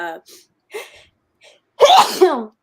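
A single loud sneeze bursts out near the mic, following a few quiet murmured words.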